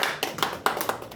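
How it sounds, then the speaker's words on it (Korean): Audience applause at the close of a lecture session, a short burst of hand claps with irregular individual claps rising above a steady clatter, fairly close. "힘찬 박수로 감사 인사 드렸으면 좋겠습니다"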